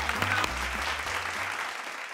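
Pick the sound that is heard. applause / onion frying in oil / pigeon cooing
applause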